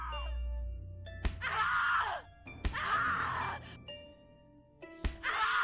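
Repeated pained screams and groans from a character in the horror video game The Cat Lady, several loud bursts separated by short pauses, close and dramatic.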